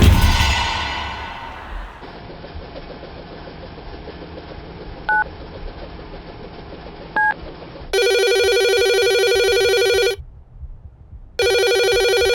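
A telephone in a Hindi horror TV drama gives two short dialing beeps, then rings in long, loud electronic bursts with a gap between them and no voices.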